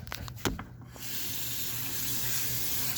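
A kitchen tap runs steadily after a couple of brief clinks, water pouring into a container to add to a dog's food, close and continuous with no talk.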